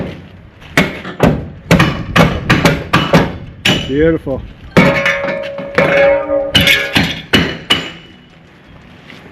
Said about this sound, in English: using a really sharp hatchet to drive off the screws that broke